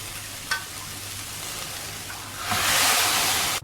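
Broth pours into a hot pan of turkey empanada filling with tomato, and a quiet sizzle suddenly swells into a loud, bright hiss of steam and spitting that lasts about a second before cutting off.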